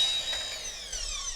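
A single short cutting pass through fabric mounting frame track at a 45 degree angle, a bright, close, fading whine of a power saw with no talking.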